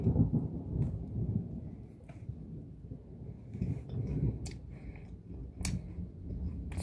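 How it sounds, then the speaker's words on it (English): Thunder rolls in a low, rumbling swell during a rainstorm, heard from indoors, rising and fading over several seconds with a few small clicks and taps nearby. "Thundering."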